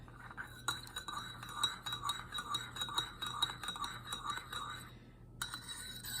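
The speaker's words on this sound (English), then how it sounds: "Stir it up." Spoon stirring herbal tea with yarrow tincture in a cup, a rapid series of light metallic clinks against the sides, close and fairly quiet, then a brief pause before a final few taps.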